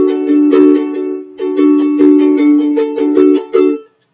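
Soprano ukulele strums chords with quick triplet flourishes, bright and close. Bursts of strokes are set apart by brief pauses, and the playing ends abruptly near the close.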